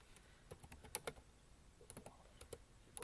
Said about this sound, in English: Oh, I love your typing.